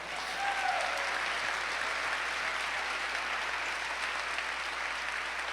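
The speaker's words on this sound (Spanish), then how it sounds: "¿Cuánto le pueden dar un aplauso al Señor?" A church audience gives sustained applause, an even wash of many hands clapping at moderate distance that holds steady throughout with no speech over it.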